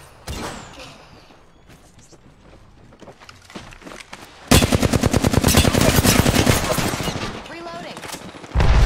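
Video game gunfire: scattered single shots and clatter at first, then a long, loud burst of rapid automatic fire, with another short burst near the end.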